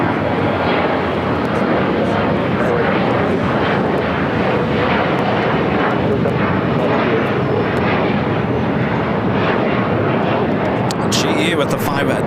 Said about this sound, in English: This Dreamliner should be a south side takeoff.